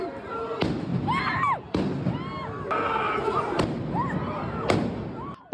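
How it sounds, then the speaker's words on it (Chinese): Firecrackers go off in sharp separate bangs at a pro-Palestine protest outside a defence expo in Melbourne, several loud reports a second or so apart with crowd noise and shouting underneath. "爆竹接连爆炸"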